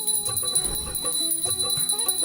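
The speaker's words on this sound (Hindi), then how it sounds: "दूसरे हाथ से, बाएं हाथ से घंटी बजती रहनी चाहिए" A hand bell rung steadily during a Janmashtami aarti for Laddu Gopal, bright metallic strikes repeating in a quick continuous rhythm with a sustained ringing tone, close and clear, no voices.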